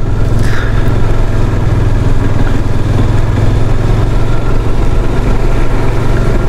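Motorcycle ridden along a misty mountain road in Sikkim near Lachen at dusk, its engine a loud, close, continuous drone that holds steady throughout with no talking.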